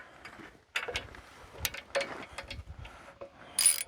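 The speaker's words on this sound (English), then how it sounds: "we're gonna take out this locking nut first" Ratchet wrench loosening a locking nut on the pin of an LS LB3002 backhoe: scattered clicks and metallic clatter in short bursts, close by, with a sharp burst near the end and no talk.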